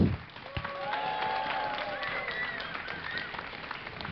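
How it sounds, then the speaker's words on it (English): A large crowd at DreamHack 2010 applauds and cheers steadily for a StarCraft II match, with whistles and shouts rising above the continuous clapping throughout. "Please make some noise for OGSTop"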